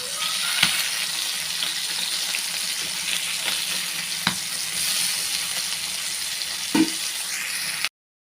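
Pieces of vanjaram fish fry in a pan as part of a Tamil fish fry recipe, giving a steady, close sizzle that goes on without a break. A few soft knocks and scrapes cut through it, and there is no talk.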